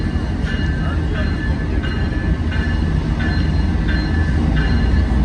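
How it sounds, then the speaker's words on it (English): A long freight train hauled by several locomotives rolls along a street, a loud, close, constant rumble with steady rhythmic clacking of wheels over rail joints, sustained for the whole stretch. "Look at all these locomotives. They got a lot of power."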